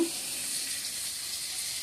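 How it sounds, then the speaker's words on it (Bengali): Pointed gourd (potol) fries in a pan with a steady, close hiss of sizzling oil. "আর এদিকে পটল ভাজা করে নিচ্ছি"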